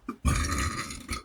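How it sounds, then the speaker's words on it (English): A long, loud, deep burp after a meal of spicy egg, rice and chilies, rumbling for about a second with a short smaller burp after it, up close with no talk. "These burps are bringing up some heat too from the peppers."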